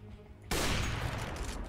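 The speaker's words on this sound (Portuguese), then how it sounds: "tomei um tiro já, ô meu Deus" Sustained burst of automatic gunfire in CS:GO during a ranked match, loud and close, erupting suddenly after a quiet moment and rattling on continuously to the end.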